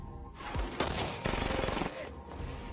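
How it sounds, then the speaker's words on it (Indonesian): Gunfire in a film shootout between police and a gang: loud, dense bursts of rapid automatic shots and single cracks, close and sustained over a rumbling background. "geng Koko menyerang hingga terjadilah baku tembak yang sengit"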